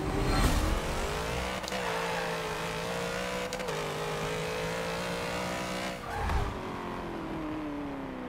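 Holden Torana A9X fitted with an LS V8, driven in Forza Motorsport 7, drones steadily at near-constant revs with a brief lift around six seconds, the engine loud and continuous with faint tire noise.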